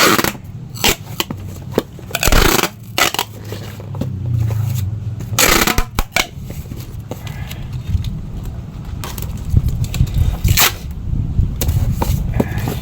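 Packing tape is pulled and wrapped around a cardboard box holding a sansevieria plant for shipping, producing repeated sharp ripping and scraping bursts up close with rustling between them.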